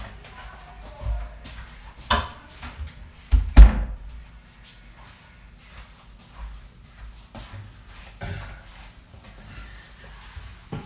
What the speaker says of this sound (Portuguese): Eu tenho que fechar a porta aqui por causa de um ruído aqui